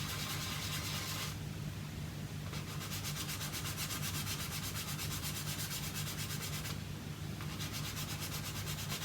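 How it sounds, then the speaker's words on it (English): A fine-grit emery board rubs back and forth over a plastic 1/72 scale WW1 U-boat model, a close, quiet scratchy sanding in steady strokes with short pauses between passes. "So I'm going to my smoothest grit on this emery board."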